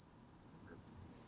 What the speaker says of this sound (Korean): 농장 안에 찌르르 찌르르 소리가 시끄럽게 울립니다.